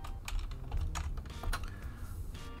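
Rapid keystrokes tap on a computer keyboard, a quick irregular burst of clicks close to the microphone with no talking.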